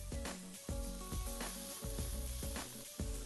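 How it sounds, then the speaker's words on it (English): Fillet steak sizzles loudly in a hot frying pan, crackling and spitting in repeated bursts, close by with no talking. "that's what you want, that sort of sizzle noise"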